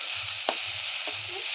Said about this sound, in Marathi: ह्याच्यामध्येच एक आपण टोमॅटो कापलेला आहे, तो पण आपण परतून घेऊया।